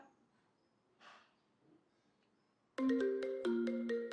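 After near silence, a phone ringtone starts playing a loud, repeating melody of electronic tones.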